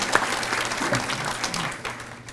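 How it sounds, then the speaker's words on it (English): Brief audience applause at a teachers banquet, a short burst of clapping that tapers off quickly, with faint room sounds beneath. "Let's give yourself a round of applause."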